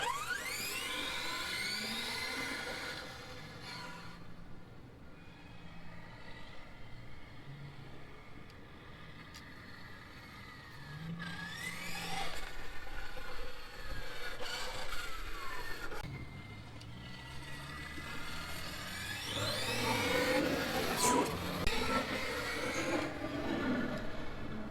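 An Xmaxx RC truck's electric motor runs at half throttle, whining and rising and falling in pitch as it speeds up and slows down, louder in bursts, with no talking.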